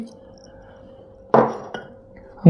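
A spoonful of ashwagandha powder tipped into a glass, heard as one sharp clink of the spoon on glass followed by a lighter tap, set against near silence.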